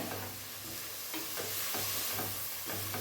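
Vegetable rice ingredients tossed and mixed in a hot pan, a steady loud sizzle with rhythmic scraping strokes of a spoon repeating through it.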